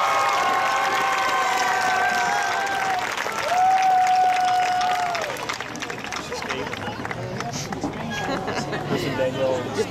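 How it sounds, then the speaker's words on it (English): A crowd at a class of 2009 high school graduation ceremony applauds and cheers the valedictorian, a steady wash of clapping and hubbub that holds loud throughout with some voices mixed in. "Now please give a round of applause for the class of 2009 valedictorian"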